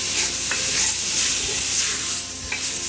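Beef sizzling and frying in curry in a pan, a steady crackling hiss with occasional soft stirring scrapes, close up and without any speech.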